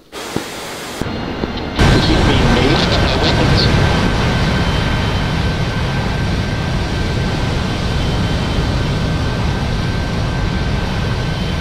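Loud, steady roar of a Harrier jet's engine in the DCS combat flight simulator, continuous throughout after a brief quieter start, with radio chatter and voices faintly underneath.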